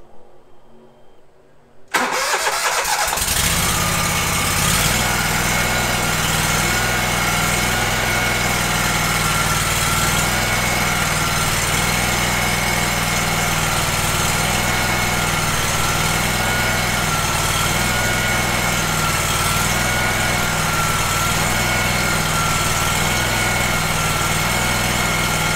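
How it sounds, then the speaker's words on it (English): ZK72 riding mower engine cranks briefly, catches and settles into a steady, loud idle that runs on evenly and close by for over twenty seconds. "crank the motor real quick"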